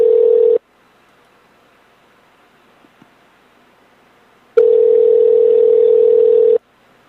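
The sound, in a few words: telephone dial tone and ringing on a call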